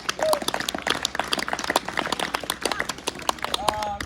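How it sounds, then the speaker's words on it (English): An outdoor cowboy poetry evening audience claps for veterans, a scattered round of applause mixed with voices and crowd murmur throughout. "They're worth a round of applause."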